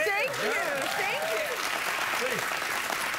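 A studio audience at a late-night talk show applauds steadily and loudly throughout, while someone speaks briefly over the clapping.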